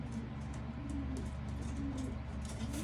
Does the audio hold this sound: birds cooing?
yes